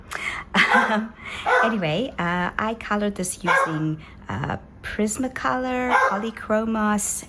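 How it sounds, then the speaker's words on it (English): A dog barks and yips repeatedly in short bursts close by, heard under someone talking steadily. "Please excuse the barking dog."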